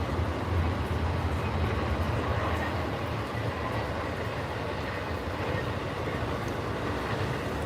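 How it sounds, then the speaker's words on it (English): Long double-stacked freight train carrying truck trailers rolling past: a steady, continuous low rumble and roar of heavy railcars, fairly loud and unbroken, with no talk. "It's gonna be a long train, I think. It's double stacked."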